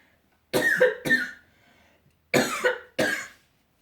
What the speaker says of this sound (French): Peut-être parce que je tousse